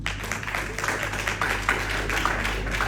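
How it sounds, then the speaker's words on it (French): A congregation claps together steadily for a few seconds, a fairly soft, dense patter of hands heard from a distance in a hall, with no talk over it. "Vous pouvez applaudir pour vous."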